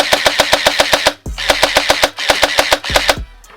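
A Faction Sentinel blaster turret fires loud, close, rapid bursts of rattling shots in three quick volleys separated by brief mechanical thumps.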